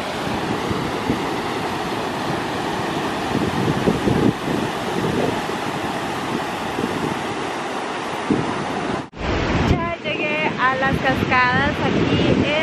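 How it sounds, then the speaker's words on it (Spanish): Waterfalls at Sioux Falls, South Dakota roar as a steady, loud outdoor wash of rushing water with wind buffeting the microphone, broken by a brief dropout before the rush resumes; a voice can be heard over it. "Cascadas aquí en South Dakota, es Sioux Falls, South Dakota"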